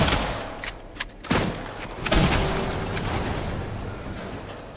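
Eddie firing his gun in Silent Hill 2: a few sharp, loud shots ring out in the first couple of seconds, then a lingering rumble fades under a steady background.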